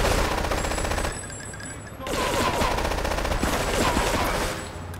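Gunfire in Grand Theft Auto 3, rapid loud bursts of automatic shots in quick succession with a short lull, close and dominant throughout.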